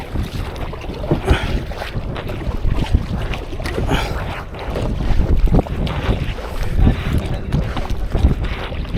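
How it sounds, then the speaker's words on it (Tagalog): Strong wind buffets the microphone in rough, roaring gusts over lapping water on a fishing trip, loud and constant, with a faint voice now and then. "grabe kusog sa hangin"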